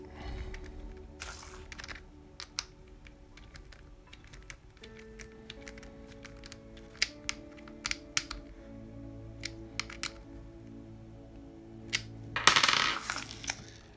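Flange nut tightened onto the front wheel of a Tamiya BBX RC car on a BB-01 chassis: small, sharp metallic clicks and ticks in an irregular patter, close and fairly quiet, ending with a brief louder rattle.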